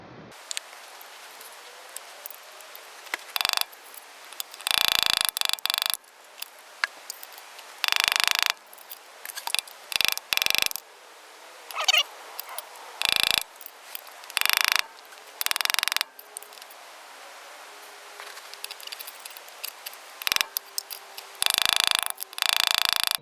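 Nut being turned on a 3-screw Ford auto hub, close bursts of metallic ratcheting and scraping clicks in short, irregular runs separated by brief pauses.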